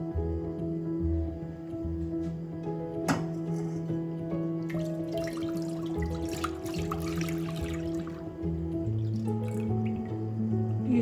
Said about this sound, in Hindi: यहाँ एक खुला पैन लिया है मैंने, इसमें दूध डालेंगे